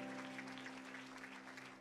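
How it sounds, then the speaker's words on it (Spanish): Faint, dense congregational clapping in a church service, steady across the short span with a sustained tonal hum, likely from music or the sound system, running beneath it. "Give an applause to the Lord."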